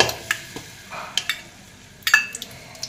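A spoon stirs jaggery melting with a little milk in a large cooker, giving light scrapes and taps against the pot over a soft sizzle.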